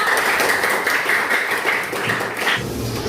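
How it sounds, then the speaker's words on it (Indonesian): Students clap together in a classroom, a dense, steady patter of hand claps at close range, holding evenly for about three seconds before thinning slightly at the end. "Kita tepuk tangan dulu untuk Desa."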